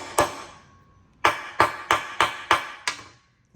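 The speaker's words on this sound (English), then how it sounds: "I'm gonna hit it with the hammer and the punch." A steel hammer drives a punch onto a deactivated primer: one sharp metallic strike, a pause, then six more close, crisp taps in a quick, steady rhythm.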